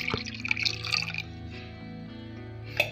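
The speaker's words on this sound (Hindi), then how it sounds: "और पानी डालेगा इसमें" Water is poured into a pot of cooked, mashed mustard greens, giving a splashy, bubbling trickle with a few drips and a sharp clink near the end.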